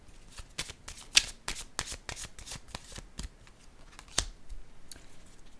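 Oracle cards being shuffled, with quick papery riffles and flicks in an irregular rhythm, close and fairly soft, with a few louder snaps as cards are handled.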